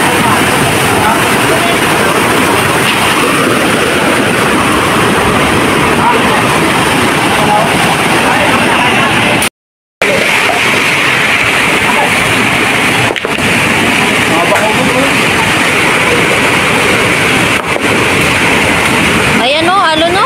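Loud, continuous roaring surf from the sea during a monsoon storm, with a brief cut in the middle and a few sharper crashes and gusts, close and dominant.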